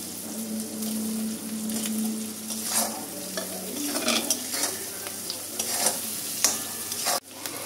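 Spices sizzle and fry steadily in hot oil in a pan while a spatula stirs them in scraping bursts, close and fairly loud, with no talking.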